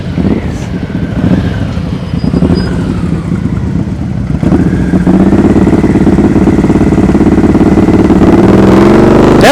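Suzuki M109 motorcycle engine held at low-speed throttle during slow-speed riding practice, a steady close mid-pitched rumble that grows louder and fuller halfway through and then holds.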